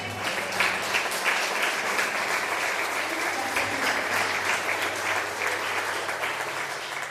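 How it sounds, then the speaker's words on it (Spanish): A congregation at a women's church conference claps steadily and loudly in praise, a dense sustained wash of applause lasting throughout with a low hum beneath. "Dale un fuerte aplauso al Señor."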